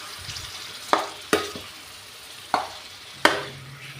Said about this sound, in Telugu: అన్నీ బాగా కలిసేదాకా కలుపుకోండి.